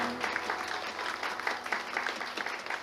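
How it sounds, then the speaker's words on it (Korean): A church congregation at a Sunday service claps to congratulate two pastors, a continuous round of applause with slight swells and no voices over it, at moderate level. "우리 두 분 목사님께 축하의 박수 해주시면 좋겠습니다."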